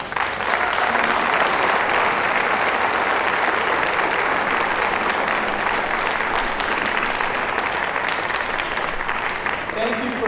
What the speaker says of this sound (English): please give a big round of applause to Padma Shri Srimati Aruna Sairam.